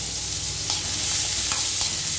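Curry leaves, ginger, garlic and onion fry in hot oil, a loud, dense, steady sizzle with a few faint stirring clinks underneath, close up and without voices.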